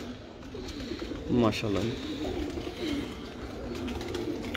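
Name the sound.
pigeons cooing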